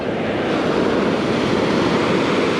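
Pacific Ocean surf at Limantour Beach in Northern California makes a continuous, loud roar of breaking waves with a wind-like rush and no distinct pauses.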